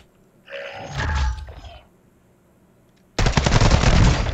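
Gunfire in Call of Duty: Modern Warfare 2: a burst of rapid shots with a clattering scuffle, a short lull, then a loud sustained stream of automatic fire up close.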